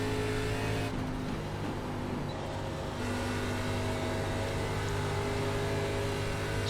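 Race car engine in the iRacing sim during an ARCA Menards Series race at Indianapolis, a steady loud drone that shifts pitch as the car works through the turn and down the backstretch, heard alone.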